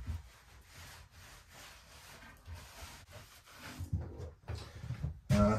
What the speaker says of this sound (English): now I need to clean it off with a clean microfiber cloth. Wipe off all that residue.